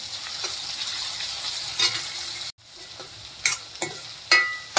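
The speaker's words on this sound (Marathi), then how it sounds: "कांदा चांगला ब्राऊन होईपर्यंत भाजूया आपण, वळापर्यंत।" Onion frying in a pan toward brown, a close sizzle broken by spatula stirring scrapes and clicks, with a brief pause midway and no speech.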